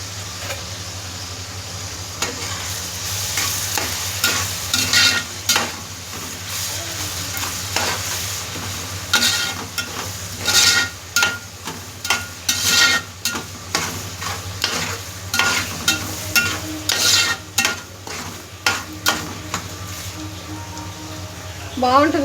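Tomatoes and green chillies fry in a pan for a tamarind-leaf, raw mango and mutton curry, with steady sizzling under repeated scraping and clattering stirs. Talk is faintly present.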